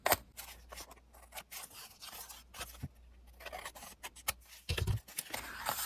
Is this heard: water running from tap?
no